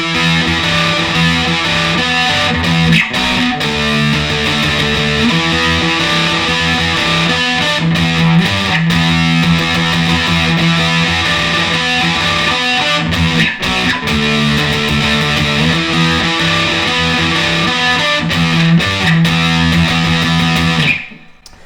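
A loud distorted electric guitar plays a steady, repeating riff of quick notes from a song for about twenty seconds, then cuts off abruptly.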